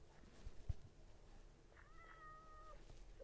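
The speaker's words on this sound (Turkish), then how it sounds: "Nerede bu kedi? Oraya kovalayacağız onu." A cat meows in the Minecraft video game, a single drawn-out mew with a brief trailing note, fairly faint and clear over quiet background, with no voices.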